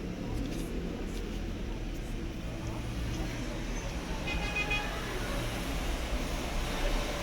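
Road traffic passing near a garden, a steady low rumble of cars with a brief horn-like tone partway through, continuous and moderately loud under background noise.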